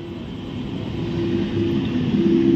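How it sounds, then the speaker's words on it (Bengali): A train pulls into a station: a steady low rumble and hum that swells gradually louder over a couple of seconds, with no talking. "ওই যে ট্রেন ঢুকছে, দেখো"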